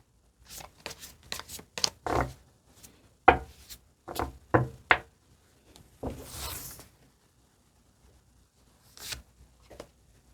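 Tarot cards being shuffled and drawn: a string of soft papery riffles and slaps in short bursts, then a longer brushing shuffle and a few isolated card snaps, fairly close and moderately quiet with no talking.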